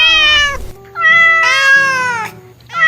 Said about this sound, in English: I could hear the cuties meowing